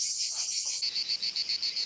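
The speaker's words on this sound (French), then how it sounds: "Ça va être agréable les cigales" Cicadas buzz close by in a warm southern setting, a high shrill drone that becomes a quick steady pulsing chirp, with a faint murmur in the background early on.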